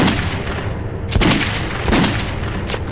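Revolver shots in the post-apocalyptic shooter Metro 2033 Redux: four sharp, loud gunshots at irregular intervals, each with a booming tail, over a steady rumble of background combat noise.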